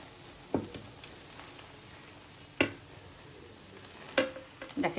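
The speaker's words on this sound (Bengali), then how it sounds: "ডিম ভাজিটা হয়ে গেছে, নামিয়ে ফেলবো।" An egg frying in a pan, a faint, quiet sizzle broken by three or four sharp clacks of a spatula against the pan.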